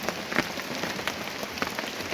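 Rain falls steadily on a tarpaulin as a dense, close hiss, with scattered louder drop taps breaking through.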